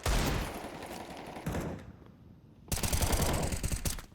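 Rifle gunfire, including a Galil, rattling in rapid automatic bursts in the video game Counter-Strike, two dense loud volleys separated by a brief lull, close and with no talk.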